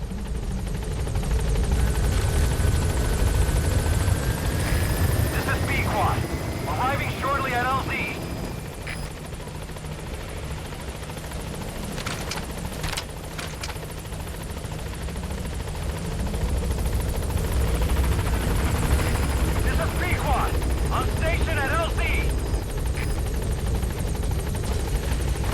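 A helicopter called in within Metal Gear Solid V: The Phantom Pain whirs loudly and steadily throughout, with its rotor drone swelling near the start and end, alongside game beeps and brief bursts of game sound.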